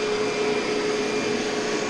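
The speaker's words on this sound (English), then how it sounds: "So you're thoroughly getting the vacuum in this direction" Vacuum cleaner running over carpet during cleaning, a loud steady motor whine with a constant airy roar that holds unchanged throughout.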